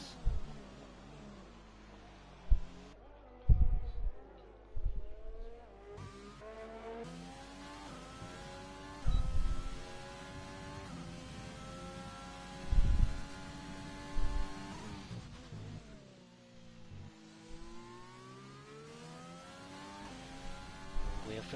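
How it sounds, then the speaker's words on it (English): Ferrari and McLaren race cars pull out onto the Bahrain circuit in a racing game, their engines whining up and down in pitch with occasional low thumps, no voices over them. "We have a Ferrari going out and a McLaren as well."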